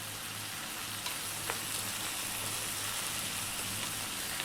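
Fresh chili sizzles and fries steadily in a pan over high heat, a continuous crackling hiss with faint pops, close and fairly quiet, with no talking.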